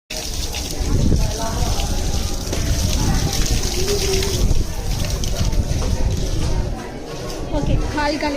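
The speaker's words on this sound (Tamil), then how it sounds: "கால் கழுவி வச்சு நம்ம உள்ள இப்போ சாமி பார்க்கலாம்" Running water gushes steadily as feet are washed before entering a shrine, with people talking over the constant splashing flow.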